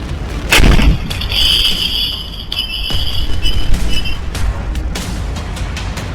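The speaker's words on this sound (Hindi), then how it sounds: "हाथों में जलती पेट्रोल की बोतल और जोरदार धमाके की आवाज" A burning petrol bottle goes off in a loud, heavy boom at night outside an office in Ranchi, followed by rumbling and scattered crackles with no talk.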